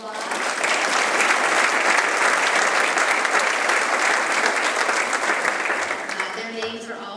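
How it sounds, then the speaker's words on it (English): Steady audience applause at an annual Silver Cup celebration, dense and even for several seconds before thinning out near the end as a voice begins. "Let's give them a round of applause."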